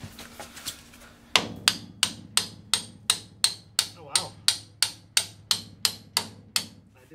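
A hammer strikes a Ford F100 truck suspension part in a steady run of about eighteen sharp, ringing metallic blows, loud and close, after a few lighter taps.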